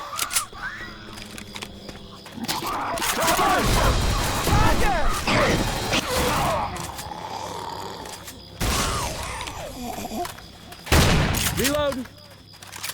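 Gunfire in the zombie shooter Left 4 Dead 2 during a Swamp Fever co-op round, with bursts of shots, clanking weapon handling and loud crashes over several seconds, mixed with players' voices talking throughout.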